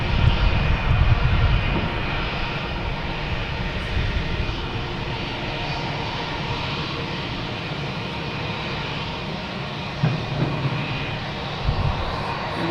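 A JetBlue jet airliner lines up on runway 27 at Boston Logan Airport, heard from a distance as a steady rumbling engine roar with a few faint thumps, and no talk.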